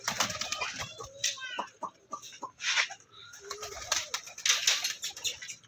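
A flock of pigeons in a home coop fills the air with busy bird calls and occasional wing flutters while feeding, a dense, restless mix of close chirping sounds.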